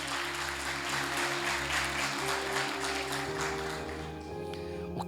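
A church congregation claps during a sermon while steady sustained music tones play underneath, the clapping broad and continuous across the whole stretch.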